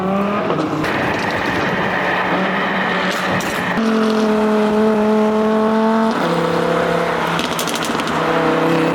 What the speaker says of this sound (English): you guys hear that Quicksilver exhaust backfiring?